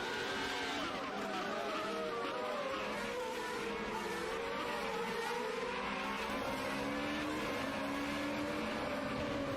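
Race cars scream past in a sim racing game, multiple engines whining and shifting pitch with tire squeal under braking, a dense continuous roar throughout.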